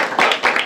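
A crowd at a campaign rally during a state assembly election tour claps loudly in brief uneven bursts, close and bright, with several hands overlapping.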